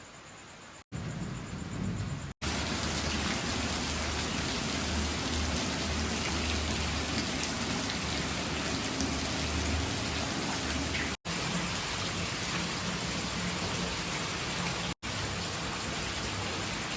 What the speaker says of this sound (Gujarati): ફૂલ ગાજવીજ ચાલુ છે અને જો છાંટા ચાલુ છે